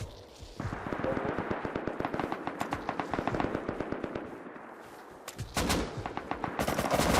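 Rapid bursts of AK rifle fire in the survival video game Rust, fast repeated cracks in long strings with short pauses, loud and close, with almost no talk over them.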